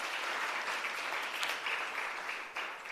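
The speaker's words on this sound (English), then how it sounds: "let's once more give them a round of applause" A workshop audience applauds TVET College learners at a hybrid capacity building event, a brief, steady burst of many hands clapping together, moderately distant and without talk.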